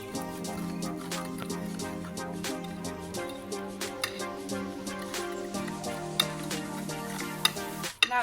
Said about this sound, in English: Stir it very well till it becomes golden brown.